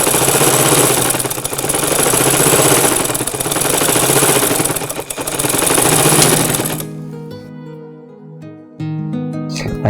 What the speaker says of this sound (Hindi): खालाजान जब आप खुद इतनी अच्छी सिलाई कर लेती हैं तो जोहा को सिलाई सेंटर क्यों भेजती?